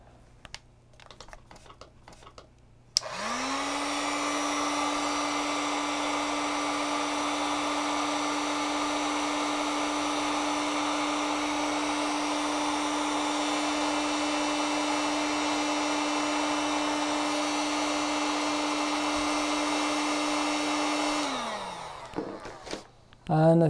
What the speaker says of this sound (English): And now I'm going to apply heat using this heat gun.